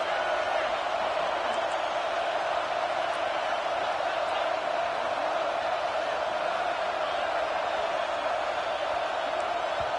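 Steady roar of a huge crowd at a Clemson football stadium, a dense continuous wash of noise with no letup, with indistinct voices blended into the din.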